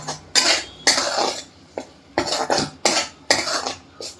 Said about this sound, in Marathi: परत मसाला एकदा हलवूया.